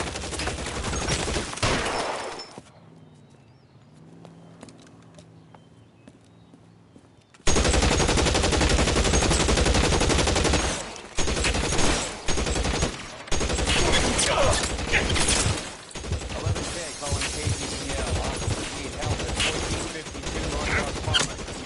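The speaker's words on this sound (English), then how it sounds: "Shots fired and officers need help at 1452 North Las Palmas." Gunfire in L.A. Noire erupts as loud rapid machine-gun bursts and repeated shots, dense and sustained, broken by a quieter stretch early on, with voices mixed in at times.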